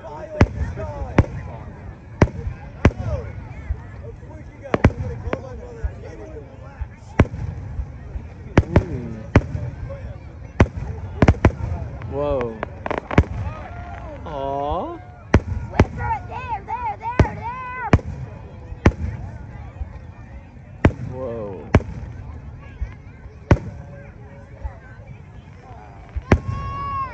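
East Hampton Fire Department fireworks burst overhead in a rapid series of sharp booms and crackles, some distant and some closer, while spectators chatter and exclaim between the explosions.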